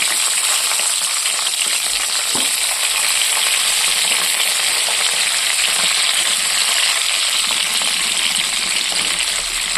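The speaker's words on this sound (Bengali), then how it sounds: "এর মধ্যে আমি টমেটো, পেঁয়াজ, কারি পাত্তা তুলে দেবো।" Tomato, onion and curry leaves hit a mustard-seed tempering in hot oil, giving a loud, steady, close sizzle that hisses on unbroken for about ten seconds with a faint knock or two.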